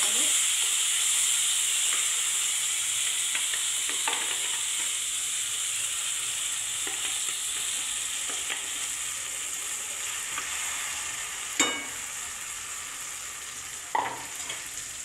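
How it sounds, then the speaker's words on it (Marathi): Gravy fries in oil in a pan for kombadi wade with a steady, close sizzle and hiss throughout, broken by a few sharp clinks of a spoon. "त्यासाठी मी हे दोन चमचे तेल घेतले आणि हे ग्रेव्ही घातलेली आहे त्याच्यामध्ये"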